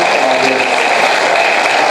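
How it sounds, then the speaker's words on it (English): An audience at a university speech event claps to welcome a speaker, a steady, close, even wash of applause that holds at constant loudness throughout with no voices over it. "Let us clap for him"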